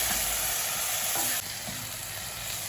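Green kanthari chili paste stirred into frying beef curry in a Kerala-style pan, giving a steady broadband sizzle with soft scraping movements; the frying hiss drops slightly partway through and carries on without any talk.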